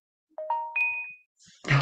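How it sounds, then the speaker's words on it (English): A mobile phone notification chimes close by in three quick rising tones, each ringing out briefly, followed by a short burst of rustling handling noise. "my phone keeps making noise."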